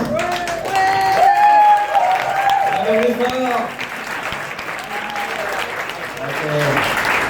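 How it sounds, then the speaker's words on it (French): A studio audience at a French variety show claps loudly and steadily for a contestant, while a host speaks over the applause throughout. "On peut l'applaudir bien fort"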